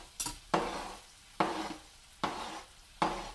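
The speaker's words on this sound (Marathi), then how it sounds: "हे बघा, बघा मी हा अख्खा टॅमॅटो टाकत आहे, म्हणजे त्या चांगला लवकर कांदा स्मॅश होईल." A whole tomato goes into onions frying in oil for Mumbai street-style pav bhaji, with a sizzle broken by four or five sharp stirring scrapes of a spoon against the pan at a steady pace.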